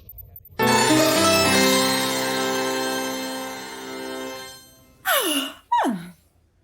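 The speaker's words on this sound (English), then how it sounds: "Did you just yawn?" A long, drawn-out voiced yawn holds steady for several seconds and fades, followed by two quick falling vocal glides.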